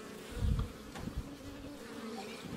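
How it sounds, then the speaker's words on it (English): Honey bees from a package split hum in a low, continuous drone inside a hive, with a brief louder swell of buzzing near the start and faint handling noise around it. "this one's got a good amount of bees in there"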